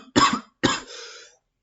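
Two harsh, explosive coughs close to the microphone from a person sick with a severe, persistent cough, the second trailing off into a rasping breath.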